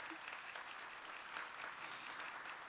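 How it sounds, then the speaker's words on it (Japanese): An audience at a panel discussion on mental health and athletes applauds the panelists, a dense, even clatter of many hands clapping that holds steady for a few seconds with no one speaking over it. "皆様パネリストの方々へ今一度大きな拍手をお送りください"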